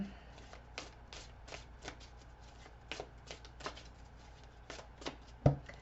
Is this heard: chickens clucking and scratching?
no